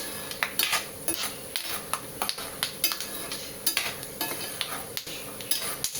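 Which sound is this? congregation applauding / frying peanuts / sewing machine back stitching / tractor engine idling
frying peanuts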